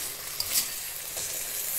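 Malbi beef seasoning, a ready-made spice mix, bubbling and sizzling steadily in a pan, a soft continuous hiss with light crackles and one small pop, alone without talk.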